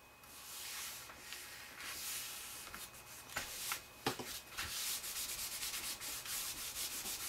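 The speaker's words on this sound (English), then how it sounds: "I'm using a very soft cloth to burnish this down" A very soft cloth burnishing glued magazine paper in a repeated rubbing motion, the steady rubbing close and continuous, with a few sharper scuffs along the way and no voices.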